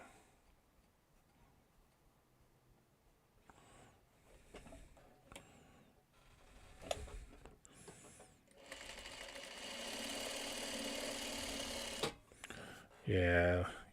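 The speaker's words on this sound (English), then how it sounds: "so I could sew this one on" A sewing machine stitches quilt block pieces, a soft steady mechanical whir running for a few seconds near the end after quiet handling noises, with a person talking faintly at times.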